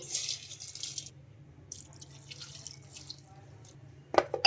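Water pours in short hissing splashes into a grinder jar holding peanuts and green gram for dosa batter, nearby and fairly soft, followed by a sharp clatter at the end.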